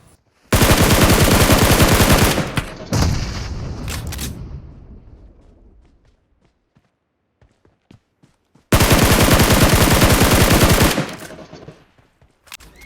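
Gunfire from a fight in the video game PUBG Mobile comes as two loud bursts of rapid automatic shots. Between them, scattered single shots and clicks sound in a quieter gap.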